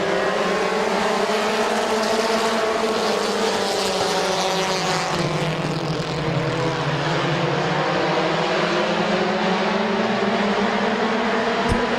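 Compact race cars at Midvale Speedway roar in a continuous, loud engine drone over twelve seconds, pitch dipping and rising as the pack sweeps past.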